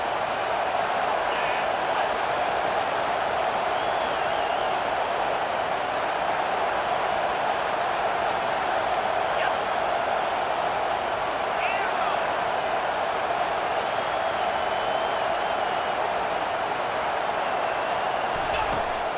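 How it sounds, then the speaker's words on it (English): Fans at the Oregon versus UNC college football game keep up a dense, continuous stadium roar. It holds steady and loud from start to finish, with a slight swell near the end. "This crowd knows when to bring it."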